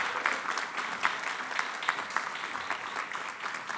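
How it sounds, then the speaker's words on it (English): Sustained audience applause at an awards ceremony, a steady wash of many hands clapping in a hall with a few sharper individual claps poking through, moderately loud and continuous with no speech over it. "Let's keep the applause going."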